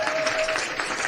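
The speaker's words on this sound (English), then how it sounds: "Hold your applause." Audience applause for guests on a talk show, a brief burst of dense, steady clapping heard alone at moderate level.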